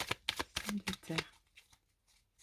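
Tarot cards are shuffled close by in a quick run of crisp riffling bursts, then softer, sparser card handling trails off toward quiet.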